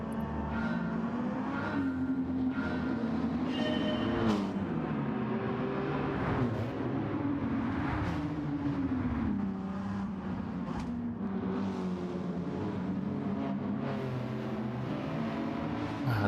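A Gran Turismo 7 race car heard from outside during a replay, its raspy engine rising and falling through shifts and corners at moderate distance, steady and alone without talk.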